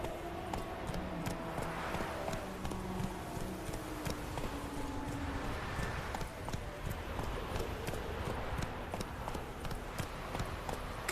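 Roach, the horse in The Witcher 3, trots with a steady clip-clop of hooves that keeps an even rhythm, moderately loud and close, with faint background ambience.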